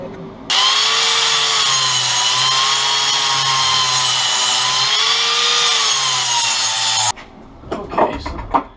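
A power tool cuts a notch into a bracket for a Mustang drift build, whining loudly and steadily for several seconds with a wavering pitch, then stopping abruptly and giving way to scattered handling clatter.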